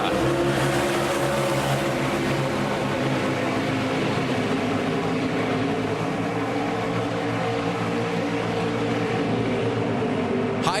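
NASCAR race cars under green flag at Road America during the 2017 Johnsonville 180, engines roaring in a continuous loud drone that holds steady throughout without breaks.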